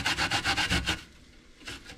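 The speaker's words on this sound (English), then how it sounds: "we will grate the potato onto the onion" A potato is hand-grated onto onion for Lithuanian cepelinai: a quick run of about six rhythmic rasping strokes against the grater, a short pause, then one more scrape.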